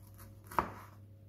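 A single sharp chop of a large knife through ginger on a board, close and crisp, with a short ring after it against quiet kitchen hum.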